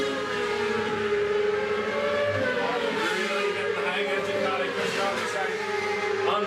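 A Ducati superbike engine roars at full throttle during the Mid-Antrim 150 road race in Ulster, a dense, continuous loud howl under a race commentator's steady talk.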